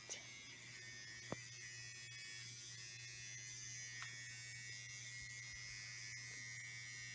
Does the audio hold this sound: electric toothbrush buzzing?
yes